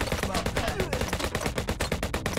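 Rapid gunshots from the video game HyperParasite, a steady stream of quick, evenly spaced pops at moderate loudness, with faint game sounds and some voice underneath.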